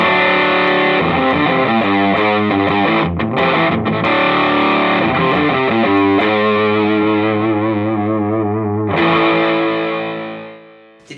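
An electric guitar played through a Soundblox Multiwave distortion pedal rings out with thick, buzzing, sustained chords and shifting, wavering effected tones, loud and alone, before the final note decays into near silence.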